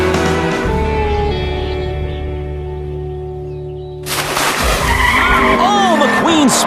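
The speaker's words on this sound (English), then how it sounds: "McQueen spins out in the infield." A race car skids and spins out in the infield during the Cars 3 final race, tire squeal and engine roar rising sharply over a steady movie soundtrack, with loud wavering screeches near the end.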